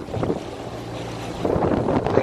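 Wind gusts across a river during a holiday boat trip, a rough blustery rush buffeting the microphone with water and boat noise beneath, swelling stronger toward the end.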